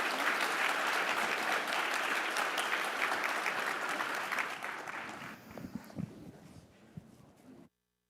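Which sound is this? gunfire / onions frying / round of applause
round of applause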